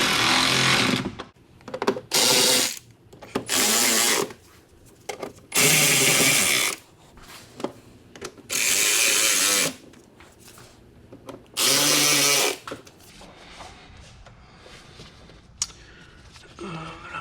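Bursts of a powered drill or impact driver tightening bolts on the air filter housing of a 2012 Audi R8 V10, coming in several loud separate runs of a second or two with quiet pauses between, close by.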